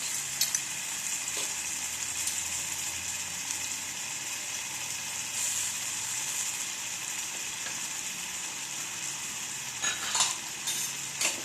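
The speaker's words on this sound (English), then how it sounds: "And stir them well." Ginger garlic paste sizzles steadily in a hot pan for a Bengali-style gobi palak, a close, bright frying hiss broken by a few spatula scrapes and clinks against the pan as it is stirred.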